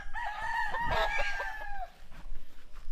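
A native rooster crows loudly and close by, followed by softer clucking from other native chickens on a small farm.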